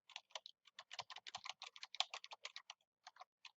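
Fingers tap out a domain name on a computer keyboard: a quick run of sharp, close key clicks in an uneven rhythm with short pauses, recorded quietly with no talking.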